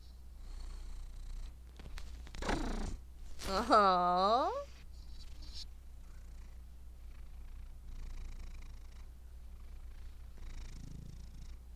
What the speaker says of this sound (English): I have never met a cat who can purr that loud.